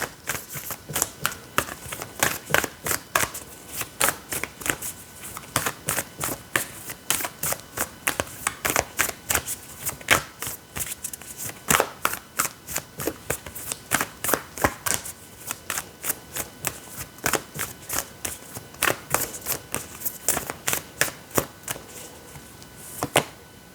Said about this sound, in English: We're going to pull a few cards from the Sufi deck